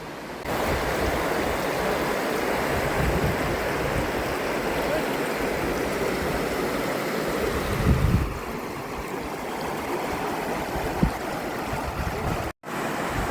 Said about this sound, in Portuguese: Eu tô aqui em cima da queda d'água.